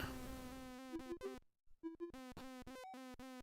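Bee buzzing in the Commodore 64 game Greenhouse, a chirpy synthesized electronic tone in short stuttering bursts that step in pitch, broken by a brief silence, no talk.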